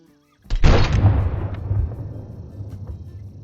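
A single rifle shot fired at an albino mountain lion in Call of the Wild cracks loudly after a brief silence, then rolls away in a long, fading outdoor echo.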